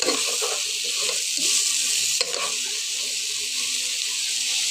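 Mung dal tipped into a hot pan of sizzling tempering with green chilli, giving a loud, steady frying hiss with a few scraping stirs, no talking.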